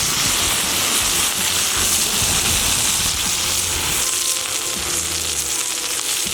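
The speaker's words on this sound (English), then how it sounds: "now we'll get this up on its edge and we want to sear off the fat cap" A tomahawk steak's fat cap sears on a hot pellet grill, giving a loud, dense, continuous sizzle that holds steady throughout without any voices.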